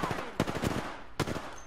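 Sniper rifle shots ring out in a video game firefight, two sharp loud cracks about a second apart over a dense background of other gunfire and game noise.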